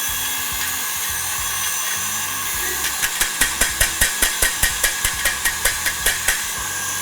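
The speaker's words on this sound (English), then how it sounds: "we are going to sift our powdered sugar and our almond flour together" Powdered sugar and almond flour sifted together for macarons, heard as a steady rhythmic run of short rasping, scraping strokes through a mesh sieve, close and fairly loud, starting after a few seconds of soft rustling.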